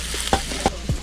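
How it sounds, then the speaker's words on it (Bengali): Onions frying in a pan for a village-style desi chicken curry, with a few brief scraping clatters as a spatula stirs them over a steady low sizzle, close by and without talk. "পেঁয়াজ ভাজা চলছে, পেঁয়াজ ভাজা।"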